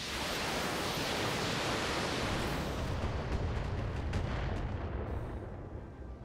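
Dense, continuous roar of mech weapons fire and explosions from the Battletech video game, a heavy broadband barrage with scattered sharper bursts that tails off slightly near the end.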